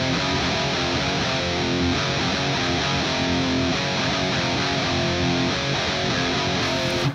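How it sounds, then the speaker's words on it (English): A heavily distorted electric guitar chorus riff, a dense, loud and continuous wall of sound with no talk. "Sounds like there's some kind of like an auto wah or something on one of the guitars too."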